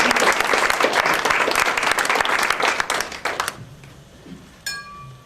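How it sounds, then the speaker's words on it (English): Audience applause from a live show crowd, dense and loud clapping for about three and a half seconds before thinning out into scattered claps and a faint clink near the end. "everyone gives you a round of applause"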